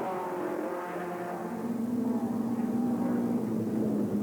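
Pre-1965 racing cars compete at Pukekohe in New Zealand's North Island, a steady droning engine note from one or more cars that swells slightly louder partway through, with no voices.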